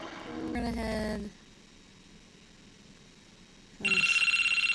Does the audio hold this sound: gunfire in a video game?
no